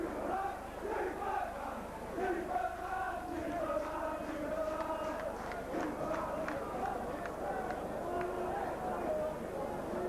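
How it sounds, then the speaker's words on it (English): A rugby league crowd at a St Helens versus Castleford match chants a player's name, a loud rhythmic mass of voices rising and falling over steady stadium noise. "Phil Beavers salutes the popular side crowd here as they chant his name"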